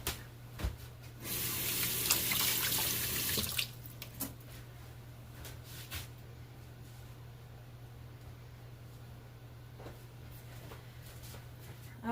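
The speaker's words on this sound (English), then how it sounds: "let me give my hands a quick rinse" A tap runs over hands being rinsed in a short rush of water lasting about three seconds. Afterward come quiet drips and faint handling sounds in a calm kitchen.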